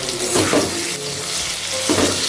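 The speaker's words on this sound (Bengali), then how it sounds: "গ্যাসটাকে লো ফ্লেমে রেখে আমি সবগুলো একসাথে ভেজে নিচ্ছি।" Cabbage, potatoes, chopped tomato and spices fry in a pan over a low gas flame, giving a steady close sizzle broken by a few stirring scrapes.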